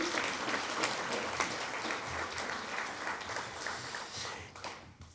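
Applause rises from an awards ceremony audience, a dense, lively clatter of many hands clapping close by, with a few sharper claps standing out before it tapers off at the end.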